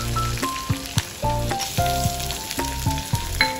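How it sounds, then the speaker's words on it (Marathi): Mustard seeds, curry leaves, chilli, crushed cumin, garlic and onion fry in hot oil in a kadhai, a close steady sizzle broken by rhythmic clicks and pops as the mixture is stirred. "सर्वात आधी एका कढईमध्ये तेल तापल्यावर त्यात मोहरी, कढीपत्ता, मिरची, त्याचप्रमाणे ठेचलेले जिरे लसूण आणि कांदे टाकून चांगले परतून घेऊ."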